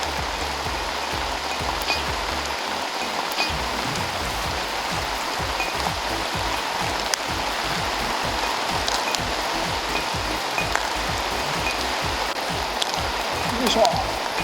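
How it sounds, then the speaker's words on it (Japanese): Heavy downpour pours onto a remote mountain lake, Ginzan Lake in Uonuma, Niigata, making a dense, steady hiss of rain on the water and surroundings that continues without pause and sounds close. "雨が土砂降りの中"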